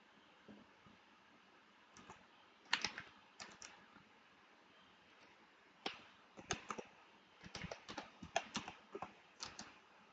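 Computer keyboard typing a domain name, irregular bursts of soft key clicks close by in a quiet room.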